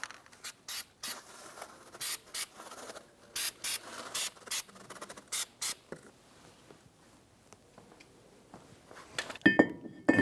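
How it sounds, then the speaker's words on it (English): Anti-seize sprayed from an aerosol can onto a Jeep Grand Cherokee brake hub surface, a series of short, sharp hissing bursts repeated rhythmically, close and clear, with faint handling clatter at the end. "Now we're going to spray our surface with some anti-seize."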